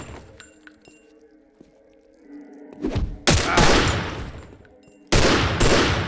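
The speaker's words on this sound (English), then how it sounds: "This 9mm I got fires 2 shots at a time for some reason." Gunfire from a 9mm pistol in the shooter game Postal, which fires two shots at a time. Quiet game ambience comes first, then loud close bursts of rapid shots hit in two clusters near the end, mixed with glassy clinks.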